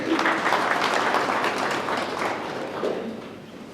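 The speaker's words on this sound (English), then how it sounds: "we need to clap for their good work" Audience applause at a Kavango West state-of-the-region address, a dense steady wash of clapping from a large crowd that holds throughout, then eases slightly toward the end.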